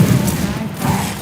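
Gunfire in the video game Left 4 Dead, a dense continuous fusillade of thumping shots mixed with players shouting over it throughout.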